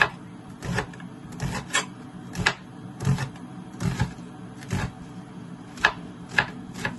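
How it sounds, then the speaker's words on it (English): Onion and garlic chopped with a sharp knife on a board, a steady series of close, crisp knocks with brief pauses between strokes, no talking. "Cut it up my onion and my garlic."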